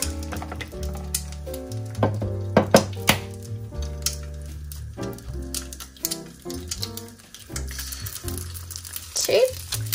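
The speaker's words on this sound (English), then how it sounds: "I've just oiled my rings and popped them in a pan, and I'm just going to crack some eggs in." Eggs are cracked into oiled egg rings set in a curved frying pan, with a few sharp taps and cracks followed by soft sizzling under a busy tonal background.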